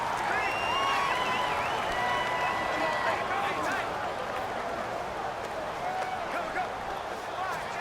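Stadium crowd noise in the Madden NFL 19 video game, from a Colts vs Rams game: a steady, loud roar of cheering and clapping fans that lasts throughout, with a commentator talking over it.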